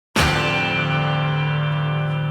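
A famous guitar chord is struck once on guitar, a sudden bright strum that rings out loud and full, sustaining evenly without decay across the clip.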